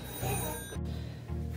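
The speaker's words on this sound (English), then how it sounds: "Oh, phone call." A telephone rings indoors during home sewing, a steady electronic ring with rapid repeating pulses that breaks briefly and then resumes, close and fairly loud with no talking.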